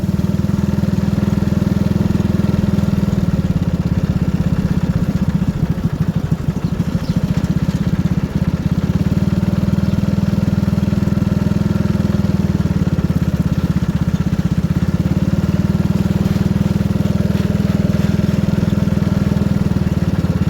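A two-wheel walking tractor's engine runs steadily and loudly nearby, a continuous low droning chug with slight rhythmic variation, alone without talk.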